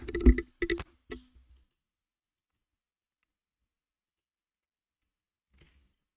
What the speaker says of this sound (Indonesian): Kita langsung ketikkan di terminalnya.